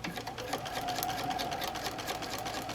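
Sewing machine stitching a paper-pieced fabric block at a long basting stitch length, a steady rapid mechanical whirring with a quick chattering rhythm, close and continuous throughout.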